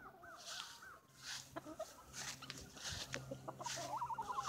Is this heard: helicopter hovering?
no